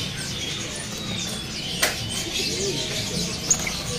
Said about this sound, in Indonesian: di sini ada burung terucuk